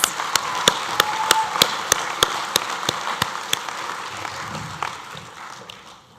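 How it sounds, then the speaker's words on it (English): Audience applause at a graduation ceremony for design and fashion students, with sharp individual claps standing out over a steady patter of clapping that gradually fades away. "Can I have a round of applause for Certificate in Fashion Studies?"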